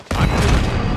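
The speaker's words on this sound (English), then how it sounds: "Grenade out!" A grenade blast in Call of Duty: Modern Warfare II Warzone hits with a sudden loud boom, followed by a dense rumbling roar that fills the brief moment.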